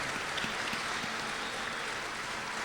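Audience applause for a tabla player after a performance, a steady dense wash of clapping filling the whole moment at moderate volume with no talk over it.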